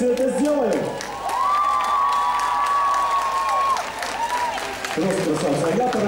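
An arena audience applauding and cheering for a girls' team, a loud sustained wash of clapping and crowd noise with a siren-like tone and a voice over it.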